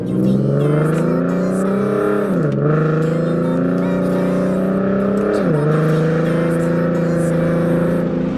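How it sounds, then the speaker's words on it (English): A Mustang fitted with 3.73 gears accelerates at full throttle. Its engine roars loud and close from the cabin, with a strong rising drone that dips briefly twice at gear shifts and then climbs again. "Should I just floor it right off the bat?"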